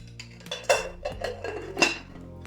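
Ceramic bunny dishes from a spring Easter decor haul clink and knock as they are unwrapped and set down, a few sharp porcelain taps spread over a couple of seconds with faint rustling between.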